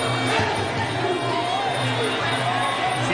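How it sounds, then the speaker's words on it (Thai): A crowd cheers and murmurs through a Muay Thai fight between Nuea Khiri Sit Samothong and Sornchai Petchphayathai at a 2007 championship event, a dense, steady roar of voices with a commentator talking over it. "เสียงเชียร์ก็ยังมีอยู่เยอะนะทางด้านเหนือกิริ"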